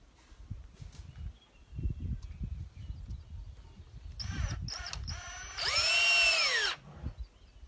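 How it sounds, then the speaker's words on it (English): A power drill drives self-drilling tech screws into a lid, with short whirring bursts after scattered handling knocks, ending in a loud sustained whine. "These little self-drilling tech screws are a wonderful invention."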